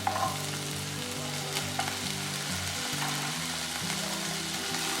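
Tomato and potato fry in a pan for a cashew curry gravy, a steady close sizzle with light crackles that holds evenly throughout, with no voices.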